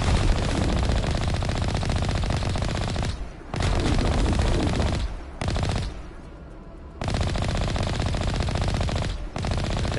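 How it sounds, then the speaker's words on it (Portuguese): Sustained automatic gunfire in the Mass Effect video game on PS5 at Insanity difficulty: long, dense machine-gun bursts broken by a few short pauses, loud and continuous throughout with no speech. "Quem tá atirando?"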